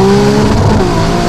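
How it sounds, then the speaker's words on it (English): A Novitec-tuned 868 hp hybrid Ferrari 296 GTB under hard acceleration, its exhaust a loud, dense, rising engine roar with steady tonal whine heard up close. "This is the first time that I'm driving with a bit of hard acceleration"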